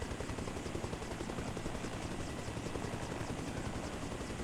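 A helicopter descends in the video game Arma Reforger, its rotor and engine a loud, continuous, even thrum with rapid blade chop throughout and no voices.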